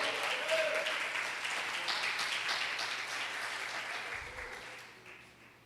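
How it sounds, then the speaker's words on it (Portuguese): Church congregation applauding during a sermon, a soft, even patter of many hands that stays steady and slowly tapers off. "Aplauda ele."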